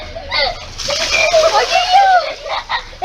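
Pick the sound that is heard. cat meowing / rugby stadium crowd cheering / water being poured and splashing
water being poured and splashing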